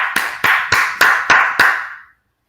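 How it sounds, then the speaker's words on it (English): Six slow, deliberate hand claps, sharp and close, evenly spaced about a third of a second apart, each ringing briefly before the next, then silence. "Jared's clapping."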